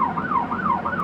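At dawn at the Jeodo fishing ground, Korea's northernmost, a siren signals the 6 a.m. start of fishing with a loud, rising and falling wail that repeats in steady cycles.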